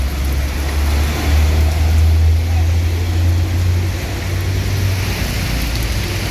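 Rain falls steadily at a bus station in Palembang, a dense, continuous hiss and patter over a loud, low idling bus engine rumble.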